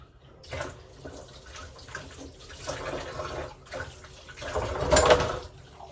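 Water runs from a household tap, the stream mildly warm from a rooftop tank heated by sun and a geyser, a steady close splash that swells louder near the end, with no talk over it.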